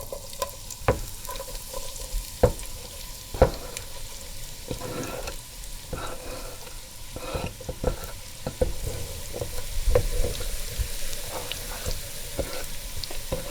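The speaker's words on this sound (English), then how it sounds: "The garlic, you don't have to chop it, you just make it in a half, and it's gonna work, does the job. And we're gonna go and put it in a pan." Halved garlic cloves fry in hot oil in a pan, giving a steady close sizzle broken by frequent sharp pops and crackles, with stirring scrapes and no talking.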